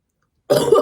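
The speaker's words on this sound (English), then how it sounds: "I'm not coughing because of this. I'm coughing because I'm sick." A single harsh cough from a sick person bursts in abruptly after a moment of silence, close and loud, with a throaty clearing quality.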